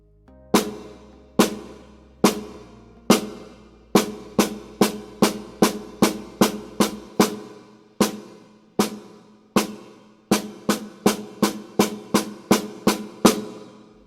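Sharp single snare drum strokes ring out, first at a steady slow pulse, then doubling to twice as fast, alternating between the two speeds.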